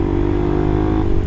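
A Suzuki GSX-R150 fitted with an R9 Mugello racing exhaust idles with a loud, steady, deep rumble, a close and continuous engine drone with a slight lift near the end.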